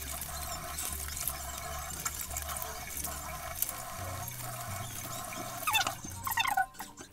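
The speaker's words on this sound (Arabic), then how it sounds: "غادي نغسل الوجه ديالي" Water running steadily from a tap while a face is washed at a sink, a continuous close splashing flow with louder bursts of splashing near the end, no speech.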